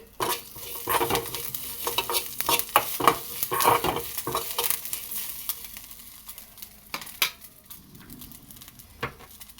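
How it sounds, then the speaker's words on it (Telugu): Curry leaves, cumin and garlic crackle in a pan for a green chilli and tomato chutney, with clattering spatula stirs in bursts over a light sizzle, busier at first and thinning out, close, without talk. "కరివేపాకు జీలకర్ర ఎల్లిపాయలు అయితే గోలుతున్నాయి"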